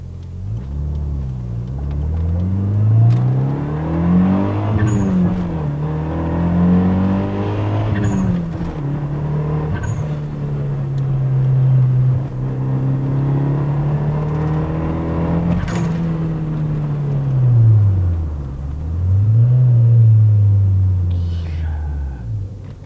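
A 1993 Mitsubishi Eterna GTI turbo pulls hard from inside the cabin, its engine note rising and falling through several gear changes, a steady loud drone with occasional shifts and faint voices underneath.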